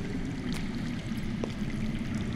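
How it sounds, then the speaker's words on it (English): Underground water flowing in a Game of Thrones Telltale video game scene, a steady rushing, gurgling stream that fills the whole stretch evenly with no voices over it. "That's water. I hear water. From underground."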